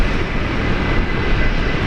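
Qantas flight QF119 bound for Auckland at Brisbane International Airport, its jet engines a loud, steady roar that holds unbroken throughout with no voices.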